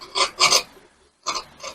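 Scissors cut through blouse fabric on a tailoring table in short rasping bursts, two close strokes followed by a pause and then two more, near and fairly loud with no talk.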